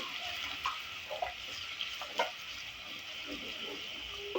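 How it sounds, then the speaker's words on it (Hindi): Onion masala sizzles steadily in hot ghee, a soft continuous frying hiss with occasional scrapes and clicks of a stirring spoon, fairly quiet and close. "प्याज को हम फ्राई करते हैं।"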